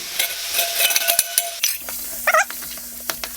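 Vegetables for jambalaya are added to a hot pan, with soft sizzling, a few sharp clinks of a utensil against the pan, and scraping stirs. The sounds are close and fairly quiet, with no talk.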